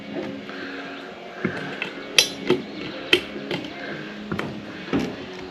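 Coil screws on a Stihl KM 90 R engine are loosened with a tool, giving sparse sharp metallic clicks and taps over a faint mechanical background.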